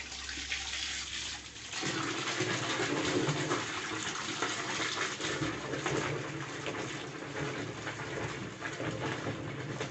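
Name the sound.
water being poured into detergent to make foam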